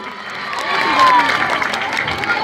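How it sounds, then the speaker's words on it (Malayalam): Festival audience clapping and cheering together, a dense crowd roar of applause with shouts that swells near the middle and holds steady, fairly close and loud. "എന്നാ നല്ലൊരു കൈയടി എന്നാണ്."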